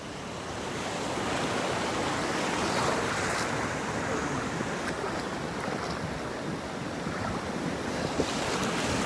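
Ocean surf at Pawleys Island washes in a continuous broad roar, with waves breaking and rushing under steady wind noise on the microphone, no voices.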